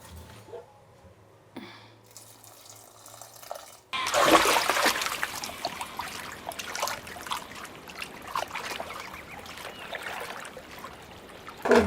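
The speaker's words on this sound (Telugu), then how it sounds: "నీళ్ళు ఆడికాడికే సరిపోయింది కాబట్టి ఇంకొద్దిగా నీళ్ళు వేస్తున్నాను నేను" Water is poured into a pot of vegetables, starting as a faint trickle and then becoming a louder, steady splashing stream up close.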